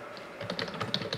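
Quick bursts of fingers tapping on a computer keyboard, a close, quiet run of uneven clicks with no talk.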